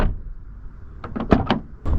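An Abarth 500 car door gives a cluster of close, solid mechanical clunks and latch clicks, with another thud right at the end, after a quiet stretch.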